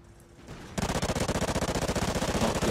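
A submachine gun in Call of Duty Ghosts opens up after a short quiet lead-in, firing a rapid steady burst of evenly spaced shots that continues loudly to the end.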